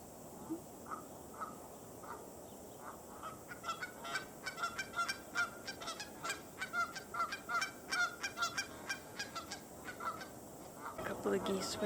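Geese honk repeatedly in a noisy cluster, the calls coming in quick rhythmic bursts that grow busier midway, set against faint outdoor ambience.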